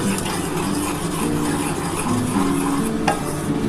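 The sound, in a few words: lightly roasting semolina in a pan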